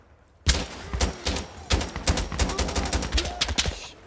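Rapid bursts of automatic gunfire from a firefight in the video game Insurgency Sandstorm, loud and close, with dense irregular volleys and short gaps throughout.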